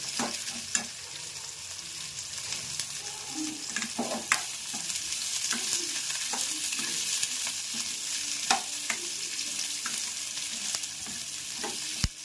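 Garlic with whole spices such as cinnamon and cardamom sizzles steadily in an oil pan, a continuous close frying hiss with occasional stirring clicks and scrapes, no talk.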